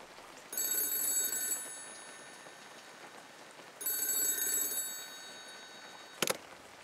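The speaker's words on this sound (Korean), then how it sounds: "그리고 그날 밤 역시나 비슷한 시간대에 똑같이 전화가 울렸답니다." Old telephone ringing twice in bright electronic bursts about three seconds apart, clear and alone over faint rain-like hiss, followed by a short sharp click.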